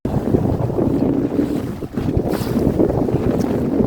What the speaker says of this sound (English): Dinghy sailing at its best, with the exception of the jet ski in the background.